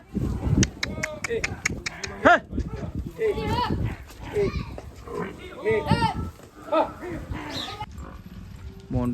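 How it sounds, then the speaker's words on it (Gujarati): Buffaloes gathering at a village buffalo event give low, drawn-out moos and grunts, nearby and repeated, mixed with voices talking and laughing over them. "મોન્ટુભાઈ ની ભેંસો જો બધી આવી ગઈ છે."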